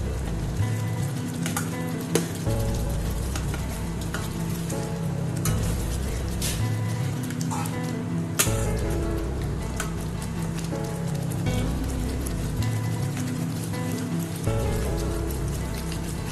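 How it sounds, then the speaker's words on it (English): Butter and cheese melt and sizzle in a pan with a steady, soft crackle like light rain, moderately quiet, with a few sharper pops and clicks scattered through. "I'll just wait for the butter and cheese to melt and create the delicious"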